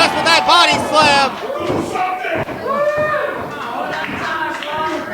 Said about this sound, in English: Right, just with that body slam.